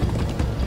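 Hooves clip-clop in a quick galloping rhythm as horses run in Minecraft: Story Mode, a short close burst with no talking over it.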